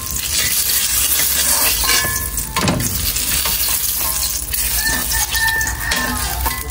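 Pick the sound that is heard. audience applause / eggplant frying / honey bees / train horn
eggplant frying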